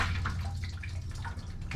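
Water drips in a few soft, irregular drops over a steady wash of running-water noise, fairly close and with no voices.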